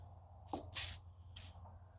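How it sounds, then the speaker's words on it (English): Penetrating oil (Blaster) sprayed from an aerosol can onto a stuck part, heard as two short hissing bursts, the first longer and louder, the second briefer, over a low steady hum. "Let's get some blaster. Some penetrating oil. See if that might help loosen it up just a touch."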